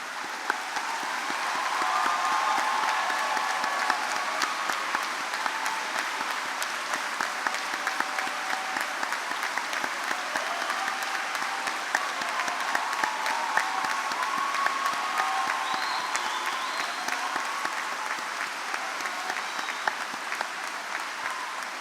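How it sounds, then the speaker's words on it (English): At a high school graduation ceremony, a large audience applauds military graduates and veterans with long, steady clapping that blends into a rain-like roar, continuous and even for over twenty seconds without speech. "please stand and provide them a round of applause for all that they do for us"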